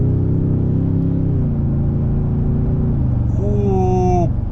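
A 2023 Toyota Tundra TRD Pro with a twin-turbo V6 and TRD exhaust revs with a loud, deep, steady growl that swells and shifts pitch near the end, close by.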